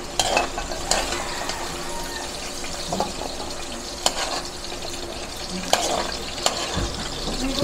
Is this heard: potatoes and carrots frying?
yes